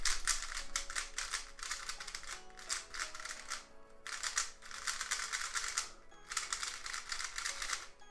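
A Cubicle Aolong v2 speed cube is turned quickly by hand, giving dense runs of crisp plastic clacking in several bursts separated by brief pauses, close and clear.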